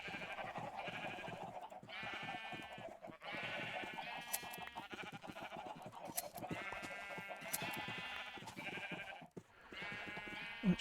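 Sheep bleating in the Minecraft video game, repeated wavering bleats overlapping one another over a steady background, several animals calling in turn throughout.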